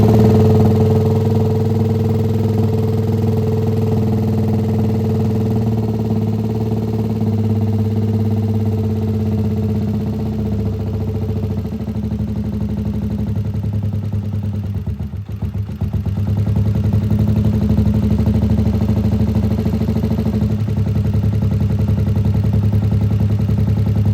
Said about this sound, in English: It's idling a bit high, so we need to adjust the idle screw.